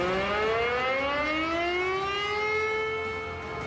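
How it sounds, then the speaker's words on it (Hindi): An air raid siren wails in long rising and falling tones, loud and sustained, with no voices. "परमाणु मीटर का सायरन आसमान में गूंज रहा है।"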